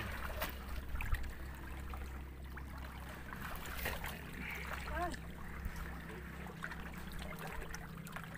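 Someone wading through knee-deep stream water in Mindoro, soft sloshing and swishing steps over a steady trickling flow of the stream, with quiet voices in the background.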